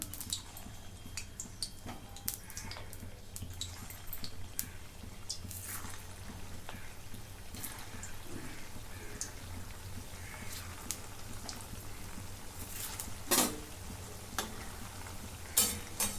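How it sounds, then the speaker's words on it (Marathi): Rava vadas frying in hot oil in a kadai give off a quiet, steady crackle and fine sizzling throughout, with a few slightly louder pops near the end. "आता कढईमध्ये तेल ओतले तेल चांगलं गरम केलेलं आहे आता हे वडे सोडून घेते"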